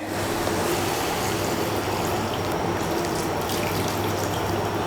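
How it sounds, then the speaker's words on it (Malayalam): Steady, continuous rush of hot water pouring into a pot of chicken curry, loud and close, running without pause and with no talking. "ഇനി ഇതിലേക്ക് നമുക്ക് വെള്ളം ചേർത്ത് കൊടുക്കണം"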